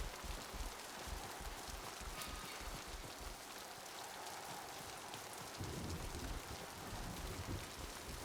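Steady rain pours in the video game Mass Effect 2, a dense continuous hiss of drops with low rumbling underneath, heard alone without voices.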